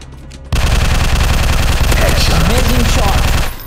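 Rapid, loud gunfire in a shooting video game rattles out in dense automatic bursts, starting abruptly and running almost nonstop for about three seconds before cutting off.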